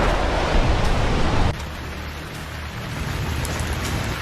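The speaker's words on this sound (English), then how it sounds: "Heavy rain." Heavy hurricane rain pours as a dense, steady hiss. It is loud at first, then drops abruptly to a softer, continuous downpour partway through.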